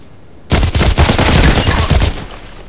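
An H&K 416c rifle fires in the video game Contract Wars. A single loud, close burst of rapid automatic shots runs for well over a second, then cuts off abruptly.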